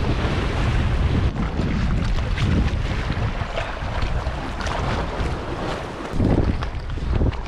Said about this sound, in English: Now this wind's not helping very much.